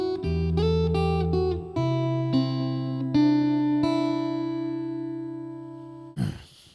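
A guitar plays a riff: a quick series of plucked notes over a bass tone, then a few slower single notes that ring out and fade, ending with a short noisy scrape.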